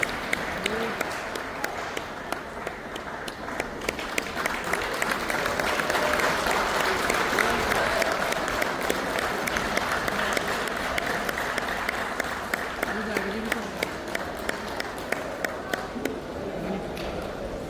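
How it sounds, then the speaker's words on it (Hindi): An outdoor crowd at a yoga event applauds a yoga teacher's headstand, with sustained, dense clapping throughout and voices and chatter mixed in the background. "लोग कैसे तालियां बजाएंगे, देखें आप"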